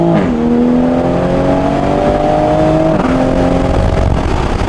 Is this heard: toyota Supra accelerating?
yes